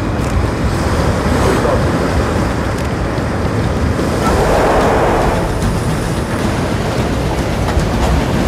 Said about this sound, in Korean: 거기 파도 들어온다.